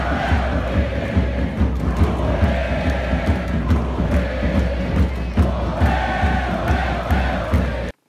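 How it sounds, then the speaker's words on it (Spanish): Large crowd at a political party event giving an ovation, continuous roaring cheers and shouts with clapping mixed in, loud and sustained before cutting off abruptly. "recibió una ovación"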